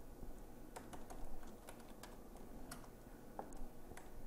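Computer keyboard keys tapped out in a short, uneven burst while naming a point group in Civil 3D 2023, crisp clicks close up over a low background hum.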